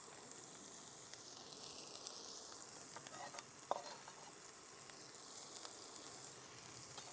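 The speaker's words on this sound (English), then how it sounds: "Just sizzle those up a little bit." Spring onions sizzling gently in hot garlicky oil in a pan, a faint steady crackle with no talking.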